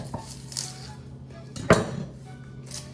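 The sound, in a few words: knife cutting an onion in half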